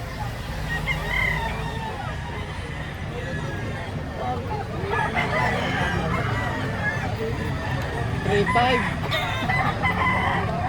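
A rooster crows amid the bustle of a market where fighting cocks are sold, calls rising over steady crowd babble and several voices talking nearby.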